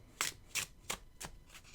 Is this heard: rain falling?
no